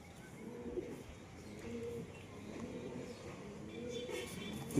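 Pet pigeons cooing softly nearby, low throaty coos repeating over a faint background hum, with no talk over them.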